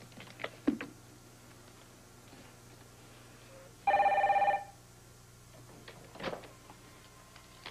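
A single short burst of an electronic telephone ring, fairly loud and near, amid sparse soft clicks and taps in a quiet room.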